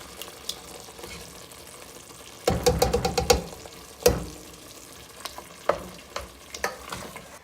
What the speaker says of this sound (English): So the next step is to add our tomato sauce.